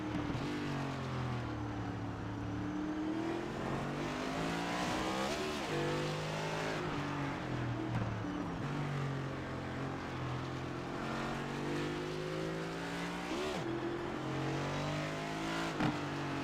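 Onboard race car engine at Circuit of the Americas in the Doghouse Racing League, screaming loudly and continuously, pitch climbing and dropping through repeated gear changes and braking, with no talk.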